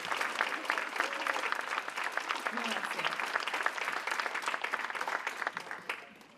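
An audience at a chamber scholars breakfast claps steadily for about six seconds, a full and dense round of applause that tapers off at the end.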